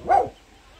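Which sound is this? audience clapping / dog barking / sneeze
dog barking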